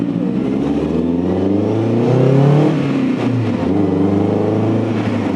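Tipo 1, a new classic-style car built on an upcycled Mazda MX-5, driving through a leafy British village and accelerating; a steady mid-pitched engine drone swells briefly as it pulls harder, then settles back, continuous and close throughout.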